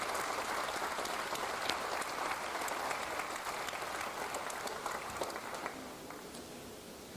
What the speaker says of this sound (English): Let's give Connie Wright a round of applause.